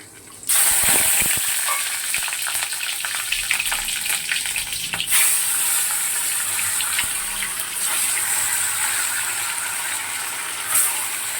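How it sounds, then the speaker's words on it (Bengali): Black cumin seeds dropped into hot oil in a wok burst into a sudden loud sizzle that settles into continuous crackling frying, with occasional clinks of a utensil. "কালো জিরে ফোড়নে দিলাম"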